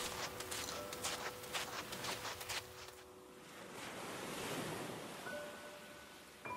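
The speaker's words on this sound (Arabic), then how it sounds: "جرفت أمواج البحر النجمة إلى الرمل الذهبي البراق." Sea waves wash onto golden sand along a beach in a soft, continuous surf hiss that swells and recedes, with faint sustained tones above it.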